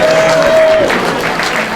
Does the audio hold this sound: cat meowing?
no